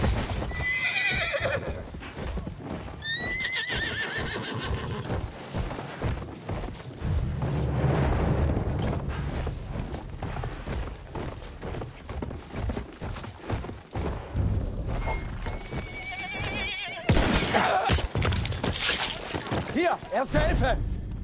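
A video game horse gallops at full speed with rapid, rhythmic hoofbeats and several loud neighs and whinnies, up close, over game effects and people talking.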